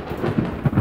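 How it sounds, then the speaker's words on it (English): A thunderstorm gives a low, steady rumble of thunder mixed with rain. It is continuous and fairly loud, with no voices. "Oh no, I love thunderstorms."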